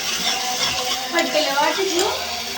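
Fish curry masala with salt and chilli powder fries in a pan, a moderate sizzle broken by scraping stir strokes and light utensil clatter.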